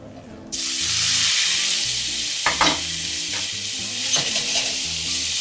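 Potatoes frying in butter in a pan sizzle with a loud, steady hiss that swells in after a quiet start, with a few scraping stirs breaking through near the middle.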